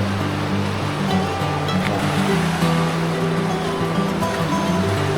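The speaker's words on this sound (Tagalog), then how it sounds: "Tapos dito kasi malakas yung agos ng tubig." Strong river current rushing at a riverside campsite in Mayantoc, Tarlac, a loud, steady broadband wash of flowing water close by, continuous with no pauses.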